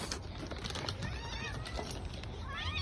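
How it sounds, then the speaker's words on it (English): Cats meowing for treats in a neighborhood setting, several high, rising cries layered over a dense, noisy background, fairly faint and mixed with clatter. "you're meowing too much."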